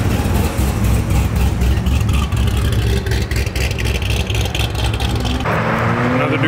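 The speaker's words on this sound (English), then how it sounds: "We got a cammed C6 Z06 here." Cammed Corvette C6 Z06 V8 rumbling loudly nearby as it leaves a car meet, a choppy, lumpy exhaust note with revving that shifts toward the end amid outdoor crowd noise.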